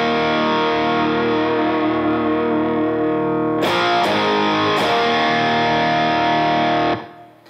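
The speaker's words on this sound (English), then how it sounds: "So when electric guitar one gets to the chorus," Electric guitar one playing a chorus part of a worship song, distorted and effects-laden, a dense sustained wall of chords with a few sharp strummed accents midway, loud and alone before stopping abruptly.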